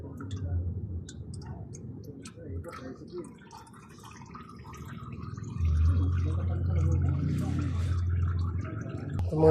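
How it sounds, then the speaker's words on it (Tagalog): Engine oil drips from the drain of a 2007–2014 Ford Everest during an oil change, with scattered small taps and clicks over a low background hum that swells into a louder rumble partway through. "Ayan mga idol, tumutulo na yung langis mga idol."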